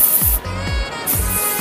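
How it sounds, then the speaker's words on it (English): Spray paint hissing onto a luxury supercar in short aerosol bursts, loud and close, with a few quick rattling pulses between sprays. "Do a bit of spray paint on the back"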